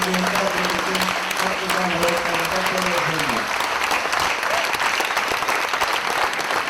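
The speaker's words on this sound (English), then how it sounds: "please give us once again a warm round of applause for our special guest" Audience applauding a special guest at a dancehall and reggae talk session, a sustained wash of clapping from a full room, with a speaker's voice over the first half that then fades and leaves the applause alone.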